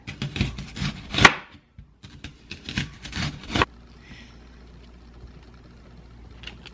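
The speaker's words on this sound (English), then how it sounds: "you just cut the onion to the thickness that you like." A knife slices an onion on a cutting board for a summer squash side dish, with a few irregular, close cutting strokes for about three and a half seconds before the sound goes quiet.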